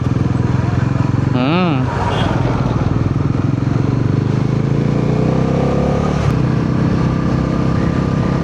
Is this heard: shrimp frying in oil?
no